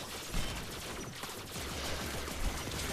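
Turret gunfire in the sci-fi shooter Warframe: a rapid, dense stream of shots with thudding low impacts, steady and loud throughout the short burst, with no voices.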